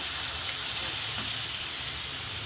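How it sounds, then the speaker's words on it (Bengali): Spice masala sautéing with greens in a pan makes a constant, fairly loud hissing sizzle with little variation and no talk. "এই যে মশলা মশলাটা কষিয়ে নিচ্ছি"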